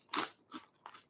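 Crunchy fried pork skin snack bitten and chewed up close, three loud crisp crunches in a row, the first the biggest, with brief pauses between and no talk.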